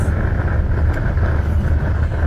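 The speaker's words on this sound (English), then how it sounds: "It is actually blowing a hoolie today. You can hear it on the top corner of the bus." Steady, heavy wind roars and buffets the top corner of a moving bus continuously, a dense low rumble with a constant hiss above it, with no voices.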